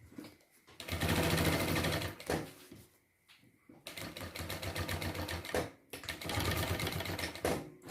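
A sewing machine stitches a travel bag in several bursts of rapid, even needle chatter separated by brief pauses, close and fairly loud, with a short clack between runs.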